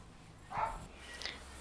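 Dogs at an animal shelter give a single short bark followed by a fainter yip, heard at a moderate distance over a quiet background.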